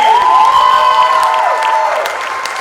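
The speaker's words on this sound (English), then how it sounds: "Ariana Silamianos, ladies and gentlemen, give her a hand" Brief audience applause and cheering greet a contestant at the Miss Armada pageant, loud and close, with a tonal whistle or cheer sweeping over the crowd before it fades.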